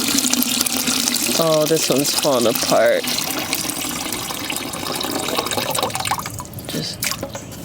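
Cold water runs and drips onto seedling soil blocks, a steady close splashing trickle, with someone talking over the first few seconds.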